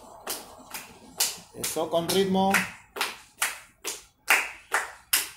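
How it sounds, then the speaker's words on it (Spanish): Children clap their hands in a steady rhythm while marching in a school physical education class, about a dozen sharp, evenly spaced claps close by, with an adult voice speaking briefly partway through. "Muy bien, ahora marchando y aplaudiendo."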